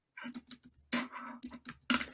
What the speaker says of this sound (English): That's a lot more typing